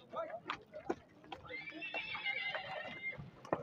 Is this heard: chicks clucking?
no